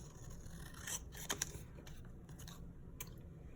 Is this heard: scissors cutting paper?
yes